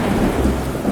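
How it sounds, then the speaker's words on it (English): Heavy rain in a 2D animated cartoon, a dense, steady, loud roar of falling water with a low rumble like thunder underneath and no voices. "It starts raining heavily outside."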